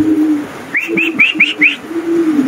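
Pigeons cooing close by, a low throaty murmur with a quick run of five soft rising chirps in the middle.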